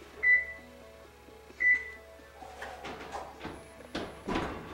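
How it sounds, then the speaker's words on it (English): A kitchen oven is set to preheat to 350 degrees: two short electronic beeps a second or so apart from the control panel, followed by faint handling clicks and soft knocks. "our first step is going to be to preheat the oven to 350 degrees"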